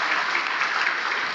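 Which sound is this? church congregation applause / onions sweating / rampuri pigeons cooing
church congregation applause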